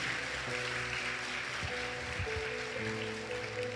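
A church congregation claps together, a broad steady wash of applause in a large room, with faint sustained musical tones underneath.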